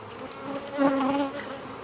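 Honey bees buzz steadily at an open hive during a beekeeping inspection, a close, continuous droning hum that swells slightly in the middle and fades a little toward the end.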